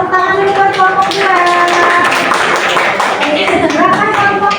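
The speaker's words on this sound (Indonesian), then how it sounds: "Tepuk tangan dulu buat kelompok 2." Classroom applause for a student group in a teacher-training session, broadband clapping sustained through the whole stretch, with faint voices and tonal background sound underneath.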